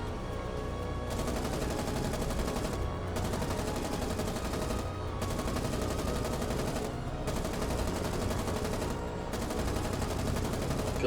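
Anti-aircraft guns fire at attacking Japanese planes in the naval combat game War on the Sea, a dense continuous fusillade of rapid shots with brief pauses every couple of seconds, steady and moderately loud.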